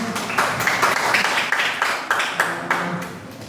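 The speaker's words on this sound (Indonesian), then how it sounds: "Saya tepuk tangan itu lagi" Hand clapping rings out in a classroom setting, a run of fairly quick, sharp claps at moderate loudness, with slight gaps between bursts.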